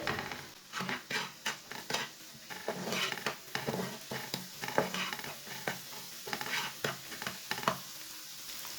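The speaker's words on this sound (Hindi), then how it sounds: "अब 2 मिनट तक पका लेंगे ऐसे ही मिक्स करते हुए" Eggs being stirred in a frying pan as they cook, a utensil scraping in steady repeated strokes over a soft sizzle, close and fairly quiet with no talk.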